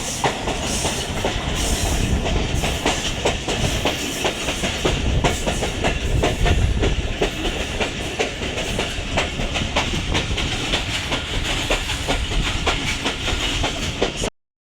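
The 13 Up Awam Express, an old passenger train, rolls through the Golra railway station yard toward the platform, with steady rumbling and rhythmic clickety-clack of wheels over rail joints, heard loud from on board.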